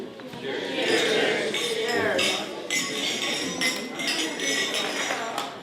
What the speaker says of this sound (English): And now I'd like everyone to join me in a toast to Ryan and Natalia.